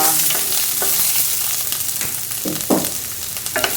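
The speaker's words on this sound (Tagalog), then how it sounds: "pagsabayin na ninyo lahat sibuyas, bawang at saka luya" Onion, garlic and ginger sizzle loudly in hot oil, with the scrape and clatter of stirring over the steady frying hiss.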